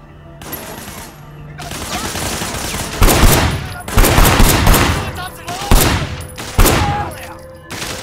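Gunfire in the open-world game Sleeping Dogs, loud bursts of rapid shots in several clusters, growing denser after a quieter start, with sharp separate cracks near the end.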